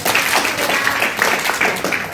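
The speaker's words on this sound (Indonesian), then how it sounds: "Tepuk tangan lagi sekali lagi" An audience claps steadily throughout, a bright, continuous wash of many hands with no pauses, fairly loud and close.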